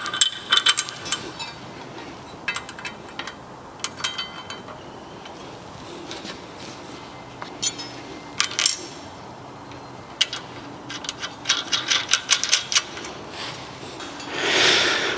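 M8 bolts with washers and flange nuts being fastened onto metal seat frame runners, giving a run of sharp metallic clicks and ratcheting clinks in irregular bursts, fairly close and with no talk.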